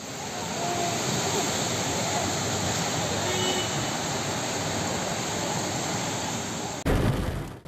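Heavy rain pours down in Şanlıurfa, a dense, steady roar of water hitting the ground that continues unbroken before ending in a brief jolt of noise.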